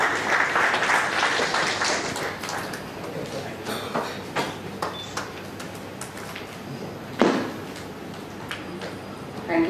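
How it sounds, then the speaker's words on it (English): Scattered applause from an audience, moderate and a bit distant, tapering off with a few louder claps and some voices. "Please give a big round of applause for today's speaker."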